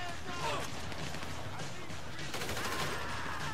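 Gunfire from the video game Grand Theft Auto 5 crackles in quick bursts, mixed in a dense, fairly quiet game soundtrack with voices talking over it.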